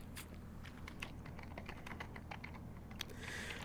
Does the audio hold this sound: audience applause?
no